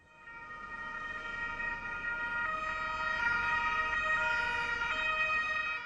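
Continuous police sirens wail with steady, overlapping tones, rising slightly in loudness, accompanied by a faint rumble of road traffic.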